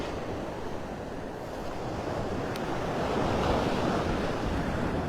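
Surf washing onto Vanderbilt Beach in North Naples, Florida: a continuous broadband rush of waves with wind buffeting the microphone, rising gently in loudness, and no voices.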